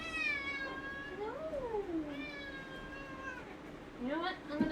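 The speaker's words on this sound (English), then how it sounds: "Cat." A cat meows several times nearby, drawn-out and wavering, with a rising plaintive call at the end over a faint background hum.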